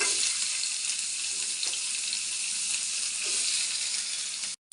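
Chopped onions fry in oil in a kadai for okra gojju, producing a steady, close hissing sizzle with faint stirring taps that stops sharply near the end.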